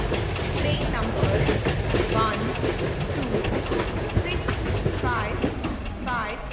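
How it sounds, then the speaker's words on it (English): An Indian passenger express rolls in at a Delhi platform, a steady loud rumble and clatter of railcars filling the whole stretch, with voices faintly mixed into the station din. "12655 Tejas Superfast Express is arriving at"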